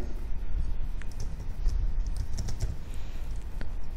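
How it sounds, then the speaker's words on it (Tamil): Steady, rapid clicking of a computer keyboard as someone types in a fruit seller's billing software, close and continuous with irregular key taps throughout. "மாதுளைன்னு நான் டைப் பண்ணுறேன்"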